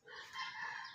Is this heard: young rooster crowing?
yes